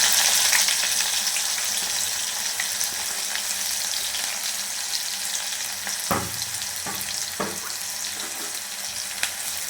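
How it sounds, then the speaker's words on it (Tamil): Chopped onions sautéing in a pan, a loud continuous close-up sizzle throughout, broken by a few sharp stirring clicks near the end, with no talking. "கொஞ்சம் வதக்கலாம்."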